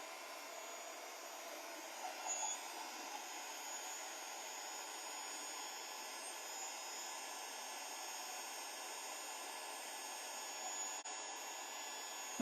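A heat tool blows steadily for the whole stretch, aimed up at a card from underneath during card making, a continuous airy whoosh with a faint hum and no pauses or talk.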